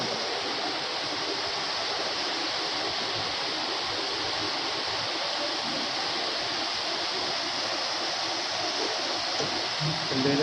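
Rainwater rushes steadily toward a drain during a downpour, a loud, unbroken wash of flowing water that holds the same level throughout with no voices over it.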